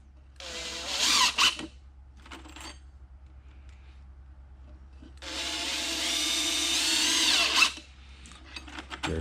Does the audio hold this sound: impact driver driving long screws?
yes